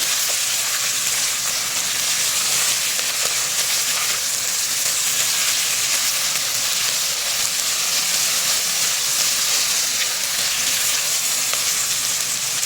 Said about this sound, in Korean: 양파를 볶으면서 약간 이렇게 노릇노릇하게 색이 올라오면 마리네이드 해놨던 고기를 넣고 같이 양파랑 같이 볶아주세요